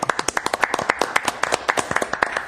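A small group claps at a civil service commission meeting, with distinct, quick, uneven hand claps heard nearby for a few seconds.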